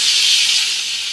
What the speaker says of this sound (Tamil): கொஞ்சம் ஒரு 1/2 சொம்பு தண்ணி ஊற்றிக்கிறோம்.